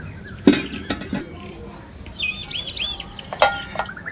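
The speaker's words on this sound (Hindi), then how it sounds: "कढ़ाई को चढ़ा लेंगे चूल्हे पे" A metal kadhai (wok) is set onto a village stove, giving a few sharp metallic clanks and clinks, with birds chirping faintly in the background.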